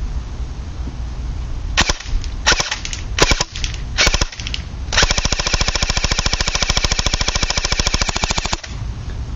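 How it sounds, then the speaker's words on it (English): An AGM Sten airsoft gun fires BBs outdoors over a flower pot into a tree. A few short, sharp bursts come first, then a long, rapid full-auto string, all close and loud, with no talking. "I'm going to be shooting right over that flower pot into the tree so you guys can really see it."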